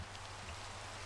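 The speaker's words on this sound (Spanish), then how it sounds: "la lluvia me confunde" Steady rainfall in Minecraft, a soft continuous hiss of falling rain, faint and even throughout with no voices.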